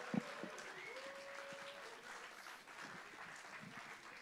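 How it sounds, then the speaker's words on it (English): Audience applause for the sound engineer at a live music night at The Bedford, a soft, steady patter of clapping from a small crowd, continuous and fairly distant, with a faint tone lingering underneath. "Give him a massive round of applause."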